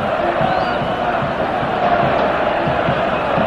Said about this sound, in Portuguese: E merecidamente a torcida do Palmeiras grita Mazinho, Mazinho no Parque Antártica